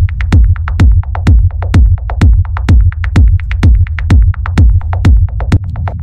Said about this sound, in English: So this is a rumble kick, and it's a pretty straightforward rumble kick.